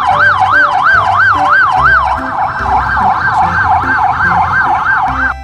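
Toy police car siren wailing in a fast repeating up-and-down electronic warble, loud and close, over a simple bouncy tune with a low beat.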